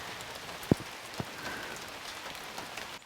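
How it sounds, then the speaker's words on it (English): Heavy rain patters steadily on small leaves, a dense, close, continuous hiss broken by a couple of sharper drops landing nearby. "you're probably hearing a lot of the sound of the rain hitting the little leaves"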